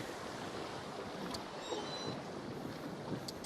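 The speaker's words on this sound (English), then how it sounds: "The sails are flapping." Sails flapping on a sailboat in a VR sailing simulator game, a steady broadband rush of wind and water with faint intermittent fluttering, no voices.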